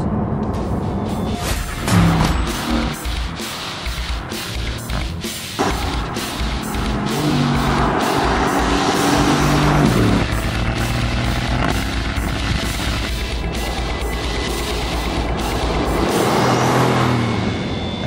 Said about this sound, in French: Avec cet AMG GT, on dispose d'un V8 plus petit que celui de l'ancienne SLS